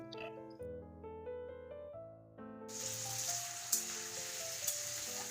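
Onion greens fry in a pan. After a few seconds of tuneful tones, a steady crackling sizzle starts and carries through, broken by a couple of sharp pops.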